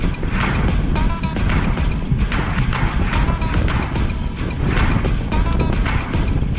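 A race vehicle roars past at close range during a racing event, a loud continuous engine and tire rush that swells and fades in waves with no pause.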